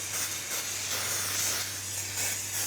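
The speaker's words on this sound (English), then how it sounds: "We'll give it a little more spray." Aerosol cleaner sprayed onto brake parts of a Kia Sorento during a brake job, a steady, loud, close hiss held continuously for a few seconds with a low hum underneath.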